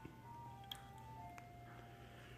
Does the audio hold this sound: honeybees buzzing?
no